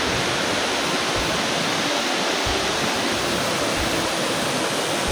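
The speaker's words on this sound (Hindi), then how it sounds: "नीचे ये आबशार है" A waterfall and streams in the green mountain meadows of Arang Kel pour in a continuous, even rushing hiss, loud and near throughout, with no speech.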